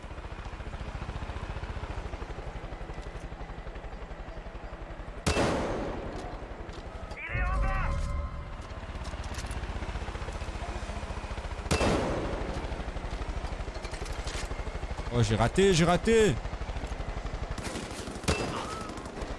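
Loud, sharp blasts from a rocket launcher in the video game Far Cry 5 ring out a few times, with a short spoken exclamation between them over steady background game noise.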